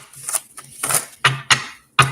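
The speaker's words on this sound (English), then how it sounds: "Hold on, let me shuffle this deck." Quick riffling bursts, like cards being shuffled close by, in several short rapid flurries with brief pauses between them.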